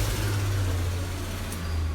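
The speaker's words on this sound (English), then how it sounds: "You just heard a bus go by on the other side of the street." A bus drives past on the far side of a city street, a close, loud low engine rumble that swells and slowly eases over two seconds.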